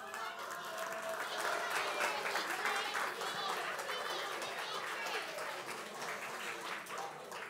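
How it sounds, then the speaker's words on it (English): Warm round of applause from a middle school worship audience as students are welcomed one at a time, a dense, steady wash of many hands clapping at moderate distance throughout. "please give them a warm round of applause"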